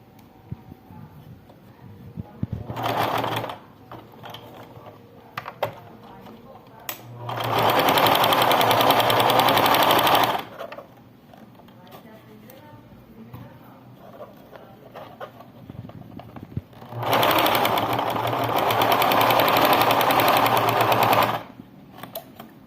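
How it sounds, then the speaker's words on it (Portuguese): A sewing machine runs in two loud, steady bursts of rapid whirring stitches, joining two fabrics along the edge of a baby slipper, with quiet handling sounds and a chicken clucking faintly in the pauses. "E vou passar uma costurinha só para segurar os dois tecidos."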